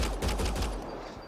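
Rapid automatic gunfire in Mass Effect: Andromeda, played on Insanity difficulty, comes as a dense, loud burst of shots that fades over about a second.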